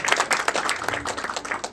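An audience claps in a continuous patter of applause at an indoor business presentation, moderately near and with no voices over it, for a brief moment.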